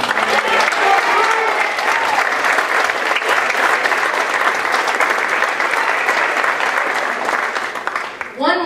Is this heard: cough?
no